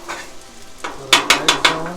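Plain white rice for chicken stir-fried rice is broken up and fried on a charred grill, a loud sizzle punctuated by a run of sharp scraping, clattering strokes of a utensil against the hot surface.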